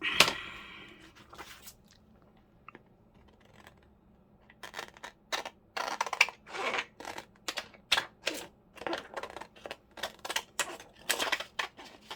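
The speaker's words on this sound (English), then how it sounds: "let's get the bigger scissors" Large scissors snip through paper in a quick run of crisp, rhythmic cuts, close by and alone after a quieter stretch.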